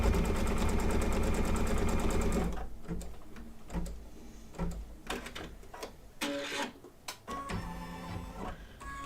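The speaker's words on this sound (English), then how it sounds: "So this is our tack down stitch." An embroidery machine sews a tack down stitch for an in-the-hoop cake shop design. Loud, rapid, rhythmic mechanical stitching for a couple of seconds gives way to quieter, intermittent clacks and whirs.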